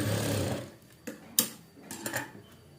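A sewing machine stitches slippery, smooth blouse fabric in short bursts of fast mechanical ticking, separated by sharp clicks and brief pauses.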